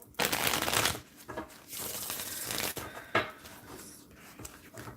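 A deck of cards being shuffled by hand, giving repeated dry, riffling bursts of papery flutter, fairly close and alone.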